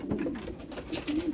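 Pigeons or doves cooing close by, with soft, throaty, repeated coos that come in short bursts over a faint background hiss.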